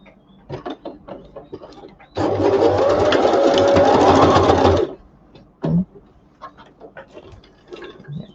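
A sewing machine runs steadily for about three seconds stitching a trouser seam, loud and close, with light handling clicks and rustling before and after.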